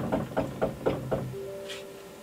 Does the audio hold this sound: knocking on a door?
yes